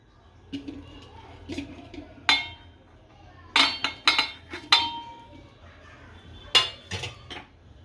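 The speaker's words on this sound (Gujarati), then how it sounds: "હવે મસાલો બનાવવાની શરૂઆત કરીએ તો આ બટેકા નાખીશું" Potatoes going into a dish to start a masala filling for aloo bun paratha, heard as a series of sharp metallic clinks and clatters of utensils against a vessel, spaced irregularly over a quiet kitchen background.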